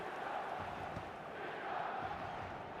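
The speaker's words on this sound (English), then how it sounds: "Certainly gave this crowd something to really cheer about" Football stadium crowd cheering and roaring in a steady distant wash, faint and broad, with brief swells and no clear voices standing out.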